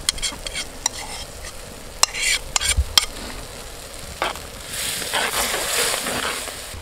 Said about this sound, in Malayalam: അപ്പോൾ ആദ്യം നമുക്ക് പേസ്റ്റ് ആഡ് ചെയ്ത് കൊടുക്കാം